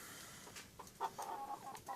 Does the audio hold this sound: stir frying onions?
no